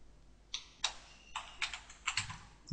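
Typing on a computer keyboard while entering a page title in a tutorial, heard as a few separate bursts of quick, light key clicks with short pauses between them, close up with no voices.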